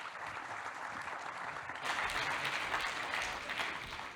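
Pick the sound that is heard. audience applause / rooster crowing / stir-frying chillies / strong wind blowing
audience applause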